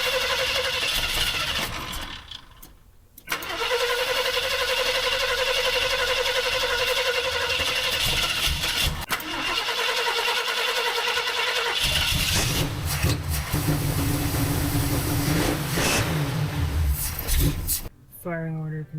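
A Ford F250 with a freshly rebuilt carburetor cranks over and fires, settling into a loud, steady idle that shifts in tone partway through, with talk heard alongside the running engine.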